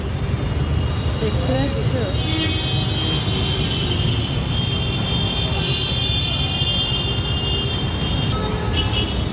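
Night road traffic at a roadside where taxis come and go, a steady, loud rumble of passing vehicles with engine drone throughout, while a person speaks briefly over it.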